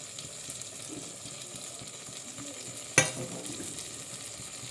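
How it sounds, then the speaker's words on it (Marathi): Brinjal is turned in black masala in a pot, with a steady soft scraping and sizzling texture, moderately quiet and close, and one sharp knock partway through. "आता पुन्हा एकदा आपण बघा कसं हलवतो असे पूर्ण मसाल्यामध्ये काळ्या मसाल्यामध्ये पूर्ण वांगे असे परतून परतून घ्यायचे"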